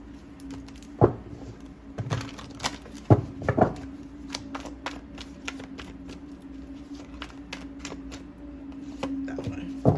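Tarot cards being shuffled by hand: a steady patter of soft riffles and taps with sharper snaps now and then, close and fairly quiet, alone against a low background hum.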